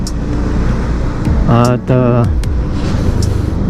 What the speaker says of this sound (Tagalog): Marami pa rin sasakyan